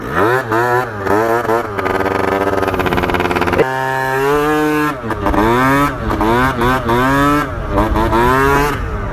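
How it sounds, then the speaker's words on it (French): A small 70cc Nitro scooter engine with an exhaust leak at the cylinder revs up and down repeatedly, loud and close, with a raspy, buzzing exhaust tone between throttle bursts. "Après il a une fuite d'échappement, genre ça s'entend de fou au niveau du cylindre"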